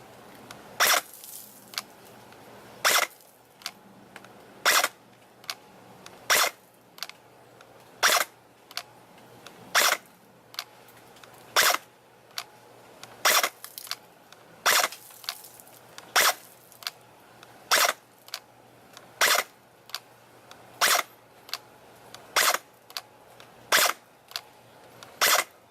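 An upgraded Type 97 airsoft gun fires 0.20 gram BBs through a chronograph, about twenty sharp single cracks at a steady spacing of roughly a second, close and clear over a quiet background.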